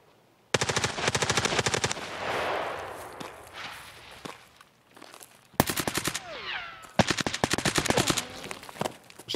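Automatic gunfire in the video game Escape From Tarkov: several sharp rapid bursts, some near and loud, separated by quieter stretches with footsteps and rustling; no speech.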